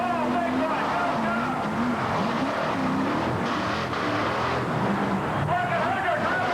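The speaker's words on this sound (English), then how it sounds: "Ford on the inside, Chevrolet on the outside." Monster trucks racing side by side at a 1987 Cleveland, Ohio arena event, a Ford Bigfoot against a Chevrolet, engines roaring continuously with skidding tires beneath a commentator's loud play-by-play.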